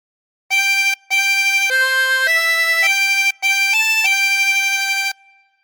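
A 16-hole tremolo harmonica plays a phrase of God Defend New Zealand, with sustained wavering reedy notes stepping up and down in a short melody, clear and close with two brief breaks and no talk.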